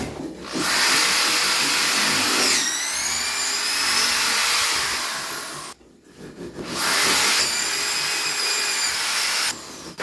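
Power drill boring screw holes in wood, two long loud whirring runs of several seconds each, split by a brief pause.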